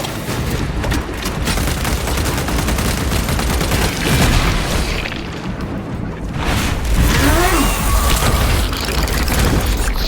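In Warhammer 40k: Space Marine 2, heavy gunfire and booming blasts pound the Neurothroat, a loud, continuous barrage with rumbling impacts and mechanical clatter.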